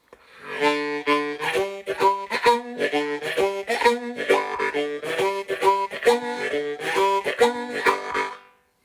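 Close solo harmonica keeps up a steady driving chug, rapidly switching between draw and blow chords in a percussive, train-like rhythm.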